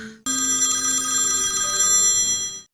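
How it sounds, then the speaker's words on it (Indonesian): A telephone rings with a bright, steady electronic ringtone in an Indonesian comedy horror film, sounding alone and clear for about two and a half seconds before it cuts off. "Naya mendapat telepon dari Alvin"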